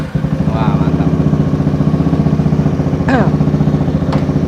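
A custom Kawasaki Estrella bobber-style motorcycle idles close by, its engine giving an even, thumping pulse throughout, with brief voices breaking in over it.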